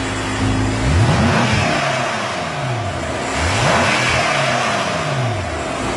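A BMW M5 with a 4.4-liter twin-turbo, twin-scroll V8 of 560 horsepower revs repeatedly, the engine note rising and falling in a few strong pulls, close and loud with no talk.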